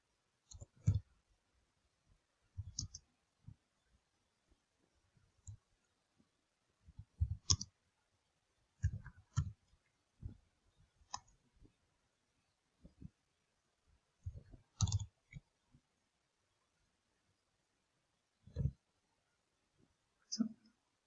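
Computer keyboard typing while writing a Google Docs question, sparse clicks falling in short bursts separated by pauses, quiet and close with no other sound.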